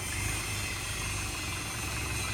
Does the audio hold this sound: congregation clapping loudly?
no